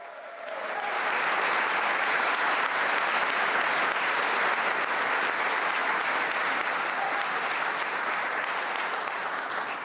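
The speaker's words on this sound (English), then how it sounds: "Lots of applause for the new minister." Sustained applause from a large crowd at a cabinet minister's swearing-in, a dense steady wash of clapping that swells in and holds for several seconds.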